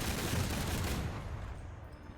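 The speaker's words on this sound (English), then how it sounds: "So you can just hold the trigger down and unleash your heavy cannon." A heavy aircraft cannon in the War Thunder air battle game fires a rapid, continuous burst, a dense roaring stream of shots that fades out after about a second.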